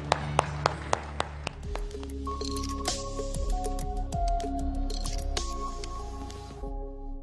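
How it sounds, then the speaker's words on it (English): A church congregation claps in a quick, steady rhythm of several sharp hand claps, then sustained organ or keyboard chords take over and fill the room. "Let's give the Lord a hand clap there."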